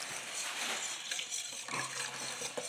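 Mango ice cream mixture is stirred by hand in a bowl with a utensil, making soft scraping and sloshing strokes in an irregular rhythm, close and moderately loud, with no talk.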